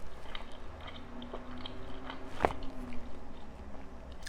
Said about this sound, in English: I'll have to edit those chews out later. I bet those sound gross up close with this mic.